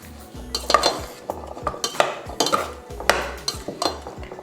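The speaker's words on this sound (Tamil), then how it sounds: "இப்போ இது நல்லா எண்ணெய் எல்லாம் எல்லாத்துலேயும் படுற மாதிரி நம்ம மிக்ஸ் பண்ணி விடணும்." A spoon scrapes and clinks against a pan while curry leaves are tossed in oil for a garlic kuzhambu, giving irregular metallic taps and scrapes over a faint sizzle, close and fairly loud.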